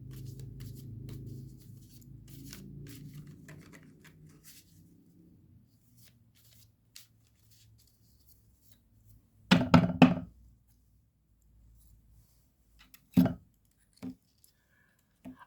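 Tarot cards are shuffled with a soft, low riffling rustle, then cut into stacks with a few sharp taps and knocks against a table, set apart by long quiet gaps.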